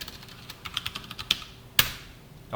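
Typing on a computer keyboard while entering text into a Java text message board program, a quick run of light key clicks ending in a couple of sharper keystrokes, close and alone without speech.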